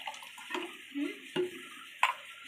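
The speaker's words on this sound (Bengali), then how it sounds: "এবার এতে একটু আমি ঠান্ডা জল দিয়ে দিচ্ছি।" Cold water is poured into a raw mango mixture in short splashing bursts, with light clinks of a utensil against the container, close and fairly quiet.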